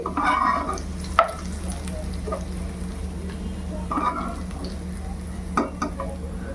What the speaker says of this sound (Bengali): পেঁয়াজগুলো সুন্দর করে লাল করে ভেজে নিচ্ছি।